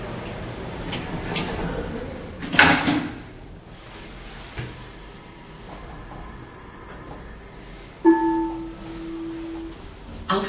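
A Dordel elevator's sliding door closes at the Rathaus Steglitz subway station in Berlin, with a sharp thump and rattle early on, then a second clunk accompanied by a steady electronic tone, all against the hum of the station.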